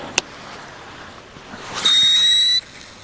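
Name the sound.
Origin F1 fishing reel squealing while casting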